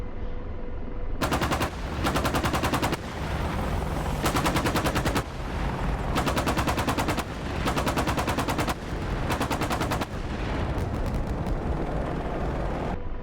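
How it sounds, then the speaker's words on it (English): Bursts of automatic cannon fire from an Apache helicopter in the combat flight simulator DCS World, fired into a wooded area: six or seven long, loud, rapid rattling volleys separated by short gaps over a constant background rumble. "Shoot into the wooded area."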